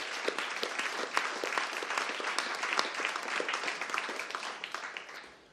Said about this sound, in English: So please give Mavis a huge round of applause.